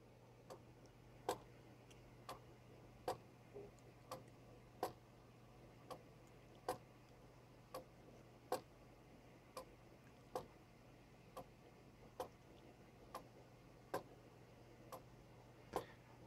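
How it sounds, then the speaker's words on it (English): A Genesis wooden gear clock ticks steadily at a little under one click per second, crisp dry wooden clicks alternating slightly in strength over a faint low hum, quiet and close with no talking. "We've got the Genesis Woodgear clock up and running, and it's pretty mesmerizing"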